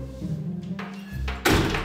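A short series of soft bumps ends in a solid wooden thunk, like a door being pushed shut nearby.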